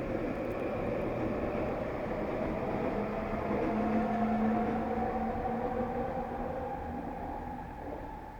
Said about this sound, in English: the trains are louder